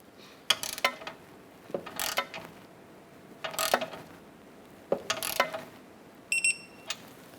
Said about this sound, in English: Let's go ahead and torque our outer tie rod nut to 40 foot-pounds.